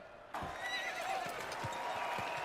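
A horse in a television drama cries out in a loud, strained whinny after its leg is cut, rising suddenly over a noisy background with a few dull thumps.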